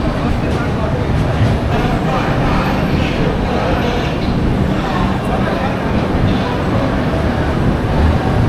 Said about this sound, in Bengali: বন্ধুরা, এখন আমাদের ট্রেনটা সমস্তিপুর এসে দাঁড়ালো